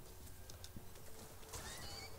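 A D-Horse from the video game Metal Gear Solid, heard as a short horse whinny and hoof clip-clops over a steady game backdrop, with no talking.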